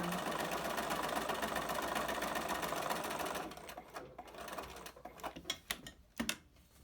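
A sewing machine stitches a fabric face mask with a steady, fast mechanical whir for several seconds, then stops, leaving a few soft clicks and handling sounds.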